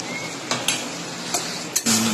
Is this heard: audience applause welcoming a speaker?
no